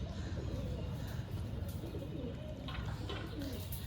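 Pigeons of long-bodied fancy breeds kept for sale coo softly, their low, rolling calls faint beneath a constant rumbling background.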